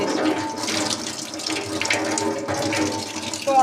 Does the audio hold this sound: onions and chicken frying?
no